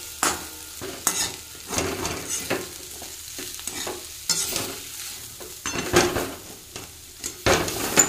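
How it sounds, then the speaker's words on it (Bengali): Fish frying in a pan at a home kitchen, with intermittent sizzling bursts and the scrape and clatter of stirring or turning in the pan, uneven and close. "এই যে মাছটা ভাজবো।"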